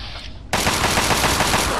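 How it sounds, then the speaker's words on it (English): A companion firing in Fallout 3 at super mutants, a quiet start cut by a sudden loud, rapid automatic burst that carries on to the end. "Okay, Jericho, stop shooting."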